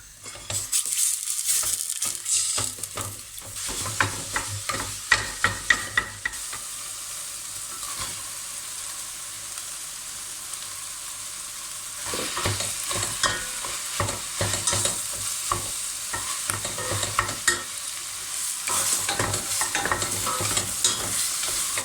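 Mushrooms and sausage stir-frying in a pot, a steady sizzle with repeated scraping and clattering of a utensil against metal, continuous and fairly loud with no talking.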